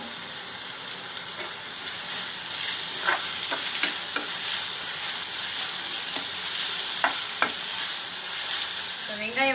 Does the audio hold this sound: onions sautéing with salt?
yes